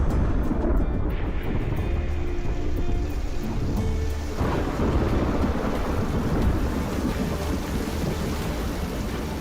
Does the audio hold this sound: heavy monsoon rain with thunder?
yes